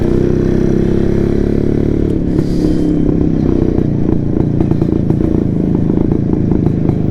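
An old Yezdi Roadking motorcycle being ridden, its loud steady engine thrumming close by with a faint rattling clatter throughout.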